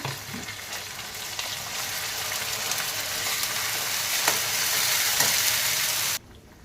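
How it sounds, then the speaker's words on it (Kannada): Ground masala paste hits a hot pan of browned onions for a mutton pepper dish, giving a loud, close, continuous sizzle that builds slightly and then cuts off abruptly just before the end. "ಇವಾಗ ರುಬ್ಬಿರೋಂಥ ಮಸಾಲೆನ ಹಾಕೊತಾ ಇದ್ದೀನಿ"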